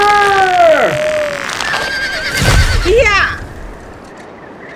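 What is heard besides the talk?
gray horse neighing and bolting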